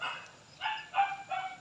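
A noisy household dog barks close by in three quick, sharp yaps, with short gaps between them.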